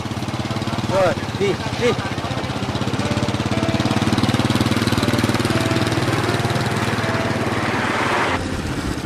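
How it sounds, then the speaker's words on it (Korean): Motorcycle engine chugging steadily while it tows a cart loaded with several wheelchairs through Quang Tri province, Vietnam, a continuous low rumble with voices briefly heard over it. "아슬아슬 오토바이 뒷공무니에 수레를 걸치고 이동해야 합니다"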